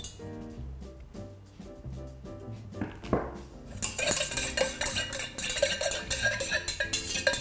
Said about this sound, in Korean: 염료가 다 녹을 때까지 저어주시고